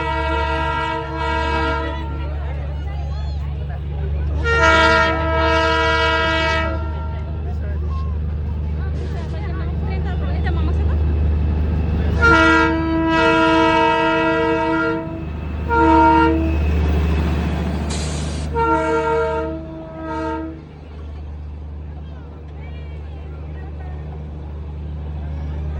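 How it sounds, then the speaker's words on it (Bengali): Darjeeling toy train pulling in with repeated loud whistle toots in several bursts, sounding over a steady low rumble of the engine and carriages, with people talking nearby. "ট্রেনটা যে আসছে অনেক দূর থেকে কিন্তু হুইসেলটা শোনা যাচ্ছে, প্রায় কাছেই চলে এসেছে"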